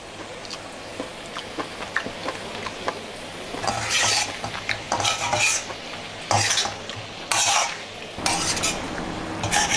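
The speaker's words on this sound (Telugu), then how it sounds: "చూడండి ఎలా రోస్ట్ అవుతుందో." Mutton roasts in a pan with pepper masala while a utensil stirs and scrapes, steady sizzling under repeated clanking, louder scraping bursts in the second half, close by and without talk.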